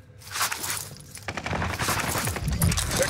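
Gunfire in Call of Duty Warzone on the Rebirth map's Fortune's Keep, bursts of rapid automatic shots close by, growing denser after a brief quiet opening and continuing to the end.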